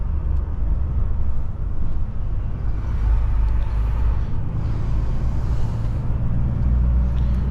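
A truck slows behind a city bus, with a continuous low engine and road rumble from the cab and faint hissing bursts that may be air brakes.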